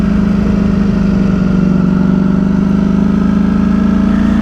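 A cold 2023 Ducati Streetfighter V4S motorcycle engine idles loud and close, a steady, throbbing low rumble with no variation in pace and no one speaking.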